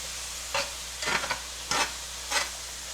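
A spoon stirs mushroom and onion gravy in a pan: four scraping strokes at a steady, unhurried pace over a constant low simmering hiss.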